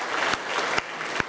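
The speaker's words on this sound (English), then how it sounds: "Give yourself a big hand for supporting this polka music." A crowd at a polka hall of fame induction ceremony claps steadily, dense applause filling the hall with a few sharper single claps standing out.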